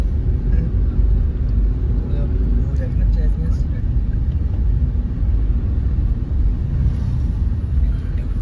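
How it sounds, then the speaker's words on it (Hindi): A car engine strains as it climbs a hill toward a jungle area near Ajitgarh, a steady low rumble close by, with people talking over it throughout. "हल्की ले गाड़ी ऊपर ही ऊपर ही ऊपर ही चढ़ भाई"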